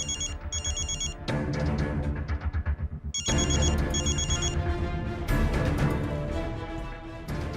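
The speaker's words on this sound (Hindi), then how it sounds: "बार बार कॉल क्यों कर रहा है, और वो भी वीडियो कॉल?" A phone rings with an incoming video call, an electronic ringtone repeating in bursts against a busy musical background from a television drama, with no speech.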